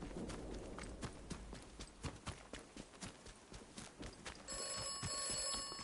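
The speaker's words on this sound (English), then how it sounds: "Oh, there's ringing again. There's ringing again." Telephone ringing inside the video game Atomfall, a faint bell-like ring toward the end beneath a run of regular footsteps and other game sounds, quiet and somewhat distant.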